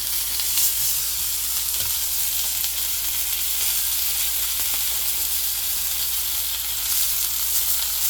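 Turkey burger patties sizzle and fry in a pan, a steady, continuous crackling hiss with small pops throughout, fairly close and with no talking.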